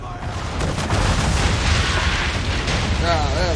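Ship cannons firing during a naval battle in Assassin's Creed III, a heavy rolling barrage of booms and rumble, loud and sustained, with a voice speaking under it.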